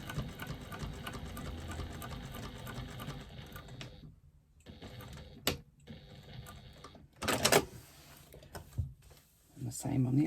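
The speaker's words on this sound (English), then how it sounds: "I'm top stitching at 1/8 inch from the folded seam that we've just pressed" A sewing machine top stitching an eighth of an inch from a pressed folded seam on a small fabric wristlet, running in steady close bursts with brief stops and a few louder clunks, a voice talking over it.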